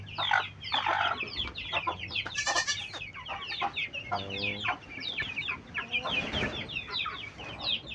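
Several backyard farm chickens cluck and squawk nearby in an irregular, busy chorus, with occasional louder calls standing out.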